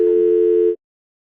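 A phone busy signal cuts in as one loud, steady tone, holding for under a second before stopping abruptly into silence.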